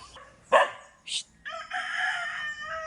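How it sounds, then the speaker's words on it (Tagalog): A farmyard rooster crows, first in short bursts and then one long drawn-out call, loud and close, with a brief squawk between and no talk. "Chicken. Rooster."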